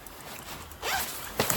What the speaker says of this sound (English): Zipper is very smooth starting off. Okay, it opens up all the way around.